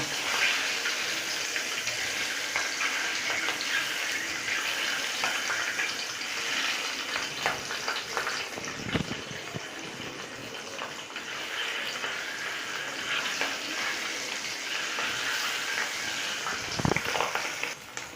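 Eggs frying in a pan for egg curry, a soft steady sizzle running throughout with a couple of brief knocks of a utensil, no talking.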